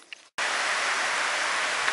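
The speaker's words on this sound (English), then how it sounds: "It's raining, we're in the shelter." Steady summer rain falling in Tasmania, heard from inside a shelter: a short quiet moment, then a sudden full, even hiss of rain that continues to the end.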